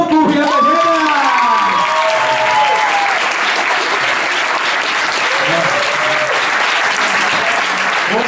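Loud, sustained applause from a live audience greeting Son Goku and Vegeta at an event in Girona, with whoops and a shouting voice over the clapping early on, steady throughout.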